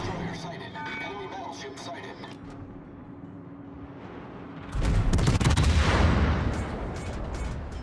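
Naval gunfire hits in World of Warships: a quieter stretch with distant rumbling and a voice, then a heavy burst of impacts and booming fire about halfway through that stays loud to the end.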